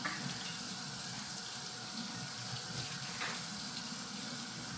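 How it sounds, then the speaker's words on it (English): Tap water runs steadily into a sink while a placenta is rinsed of blood, an even close splashing hiss with a couple of faint clunks and no talk. "Basically just have to like rinse all the blood off of the placenta."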